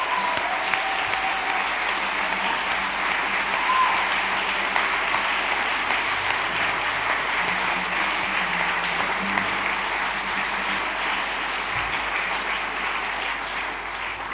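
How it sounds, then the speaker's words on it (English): Sustained crowd applause and cheering at a children's and young adult book awards ceremony, honoring finalists and winners; dense, steady clapping fills the room at an even level throughout with occasional whoops. "we've got another ground-shaking round of applause for all of tonight's finalists and winners"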